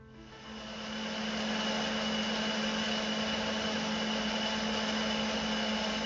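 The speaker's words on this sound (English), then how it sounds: "I'll transfer the yam inside a blender and I'll be grinding it into" A blender grinds dried yam into powder with a steady, dense whirring roar that swells over the first second and then holds constant, close and loud, with no talk.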